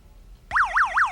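A battery-powered buzzer in a simple circuit sounds the instant the switch is closed, a loud warbling electronic tone rising and falling three times in quick cycles after a brief quiet moment.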